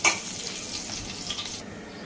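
Cumin, dried red chilies and green chilies sauté in hot oil for a fasting barnyard-millet rice dish, a close, steady crackling sizzle that fades slightly near the end, with no talking.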